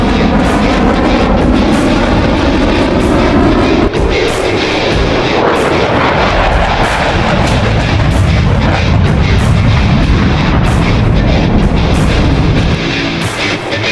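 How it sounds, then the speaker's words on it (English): An F-18 Super Hornet jet roars loudly and continuously at a virtual airshow, a broad rushing engine blast that swells and shifts without pause. "Now it's time for the F-18 Super Hornet."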